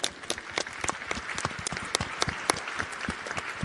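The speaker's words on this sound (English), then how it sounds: "thank you to all of our youth participants. Big round of applause." A crowd gives a round of applause for youth participants at a conference event, with lively, uneven clapping and sharp individual hand claps standing out close by over the steady roar.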